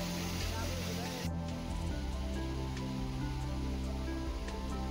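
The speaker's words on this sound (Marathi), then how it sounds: "पाऊस वाढल्यामुळे पाण्याचा प्रवाह देखील वाढला." Heavy monsoon rain at Gupt Bhimashankar pours down in a steady, dense hiss that continues without a break, with a constant low hum underneath.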